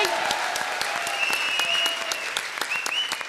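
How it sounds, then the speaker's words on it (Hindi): Studio audience on a Hindi TV show bursts into a big round of clapping that holds steady, dense and close, with some faint voices and cheering mixed in throughout. "a big round of applause"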